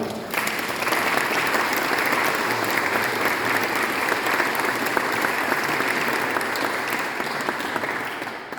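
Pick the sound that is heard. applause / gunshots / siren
applause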